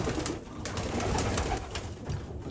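Birmingham roller pigeons coo steadily and close by inside a loft, their soft, overlapping calls continuing without a break across the whole short stretch, with no talking.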